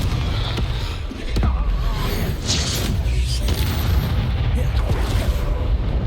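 Confringo spell explosions in the video game Hogwarts Legacy, deep booming blasts rolling over a dense rumbling game soundscape, loud and continuous with a few sharper impacts layered in.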